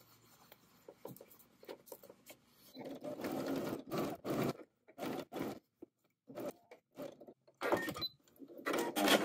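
A sewing machine understitches a jacket undercollar close to the seam, running in short irregular bursts of stitching separated by brief pauses, fairly close and alone.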